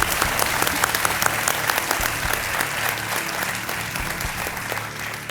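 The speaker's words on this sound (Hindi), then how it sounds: "तालियों के साथ इनका स्वागत किया जाए।" A studio audience on a quiz show claps to welcome a guest, a dense sustained round of applause, loud and close, holding steady before easing off at the very end.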